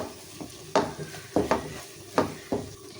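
Egg halwa stirred in a pan, with five or six firm scraping strokes of a spoon against the metal over a faint steady sizzle, fairly close and with no talk.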